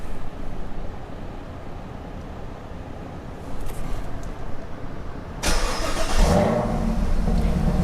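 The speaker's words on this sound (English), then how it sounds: "then we'll start the car back up." A Camaro ZL1 1LE fires up: after several seconds of low idle rumble with quiet background noise, the engine starts with a loud burst, then settles into a strong, steady running roar close by.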